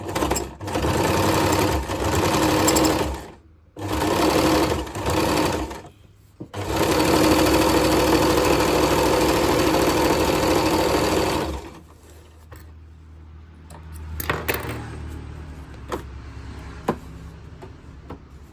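A sewing machine runs in several loud bursts while a churidar pant is being stitched, pausing briefly between runs and then winding down into quieter handling and soft clicks near the end.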